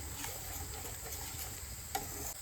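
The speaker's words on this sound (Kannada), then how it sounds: "ಸೊ ಫಸ್ಟ್ ಕ್ಯಾಪ್ಸಿಕಮ್ನ ಹಾಕಿ ಸ್ವಲ್ಪ ಫ್ರೈ ಮಾಡ್ಕೊಳ್ಳೋಣ" Capsicum frying in hot ghee in a pan for white sauce pasta, a faint, steady sizzle with light stirring ticks and one small clack, heard close and alone with no talking.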